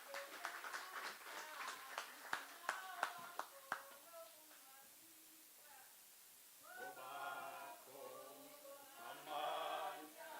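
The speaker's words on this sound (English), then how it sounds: "A round of applause, please." Audience applause at a certificate ceremony for a rural network launch: a burst of sharp, scattered hand claps that fades after a few seconds, followed by faint voices of people talking nearby.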